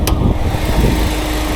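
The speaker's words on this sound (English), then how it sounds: "Now, let's see how the engine looks when it's running." A 2017 Ford Fiesta SE engine idles at a steady low rumble, close and continuous, with a brief sharp click near the start and no talking.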